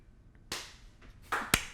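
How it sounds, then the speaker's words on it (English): A few slow, separate hand claps, sharp and close, spaced unevenly over under two seconds, with the last two coming quicker. "Ted with the slow clap."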